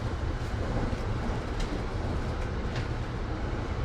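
An Amtrak coach train on an overnight run from Miami to DC rolls along the rails, a steady close rumble and hiss with faint clicks and no voices.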